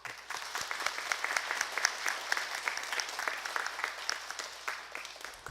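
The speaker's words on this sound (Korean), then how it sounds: "여러분들이 격려와 또한 응원의 박수를 한번 드리도록 하겠습니다" A church congregation at a Korean Methodist Sunday service in Augusta applauds newly elected deacons and elders, with steady, even clapping heard from a moderate distance throughout.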